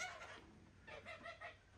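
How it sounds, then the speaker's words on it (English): Red bourbon heritage turkeys on a farm give soft, close clucking and gobbling calls in short bursts, one cluster early and a busier run of calls near the end. "These are a heritage breed, red bourbon turkeys"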